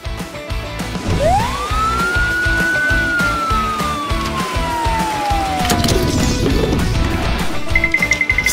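A toy police car's electronic siren gives one long rising-then-falling wail over busy background music and clattering, loud and close, followed by scattered knocks and bangs.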